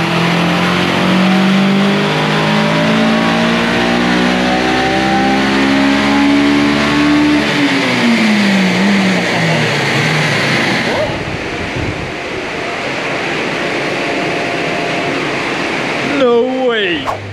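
A stock Honda S2000 engine revs hard on a dyno and climbs steadily in pitch under heavy load, then drops off into a loud roaring whoosh as it winds down.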